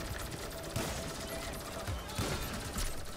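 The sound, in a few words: gunfire in video game Grand Theft Auto V Online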